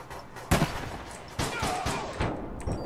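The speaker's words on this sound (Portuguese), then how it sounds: "Eu acertei um tiro de sniper nele aqui" Sniper rifle gunfire in the shooter game APB Reloaded, with a few sharp, loud shots spaced irregularly over a low background rumble.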